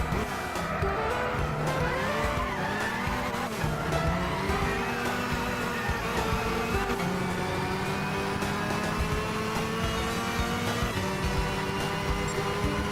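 A Ferrari race car lapping a circuit in Gran Turismo 6, a sustained close engine whine rising and falling through gear changes with light tire squeal, no speech.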